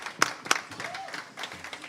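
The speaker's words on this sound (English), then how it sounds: "Let's have another round of applause." A small live-music audience applauds as a performer comes to the stage. A couple of crisp individual claps stand out over a softer, fairly quiet spatter of clapping.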